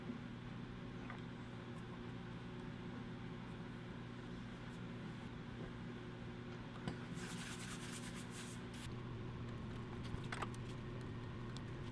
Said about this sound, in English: using the 6-inch Immerse orbital sander